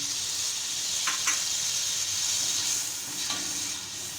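Masala sizzles in a pan with yogurt and green chilies for pulao, giving a steady frying hiss heard up close, with a few light clinks of a spoon stirring and no speech.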